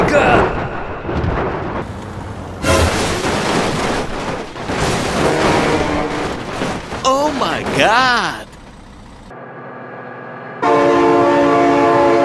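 A train sounds its horn in a driving video game, set among trucks, tractors and rail crossings, with loud engine rumble, wailing horn tones, and a sustained harmonic horn blast near the end; game effects and voices mix in.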